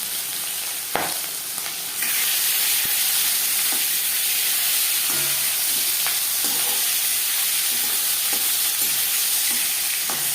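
Salt and turmeric dropped into hot refined oil in a pan, bursting into a loud, dense, steady sizzle after a brief quieter start, with occasional faint clinks of a spoon.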